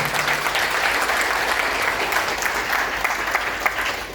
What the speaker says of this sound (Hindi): एक बार अपनी जिंदगी बदलने के लिए जोरदार ताली दोस्तों